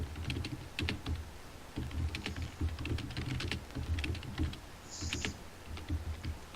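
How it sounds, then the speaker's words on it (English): Rapid, continuous clattering of a computer keyboard, close and steady, with dense keystrokes in quick bursts and barely any pause. "And what? Furiously typing."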